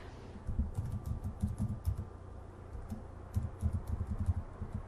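Fingers type on a computer keyboard with soft, close, irregular clicks and patters in quick runs, pausing briefly midway before another burst, no voices.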